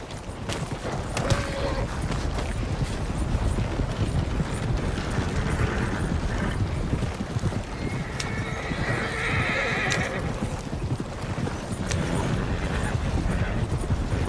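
A horse in Red Dead Redemption 2 gallops in a dense, continuous run of hoofbeats with a loud whinny partway through, mixed with tack and gear rattle. There is no talk.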